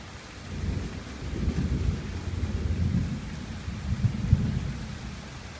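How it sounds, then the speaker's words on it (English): Heavy rain pounds steadily on a gazebo roof during an electrical storm, making a dense, continuous drumming patter with low thunder rumbling underneath. "The rain's hitting off the gazebo makes it sound like that."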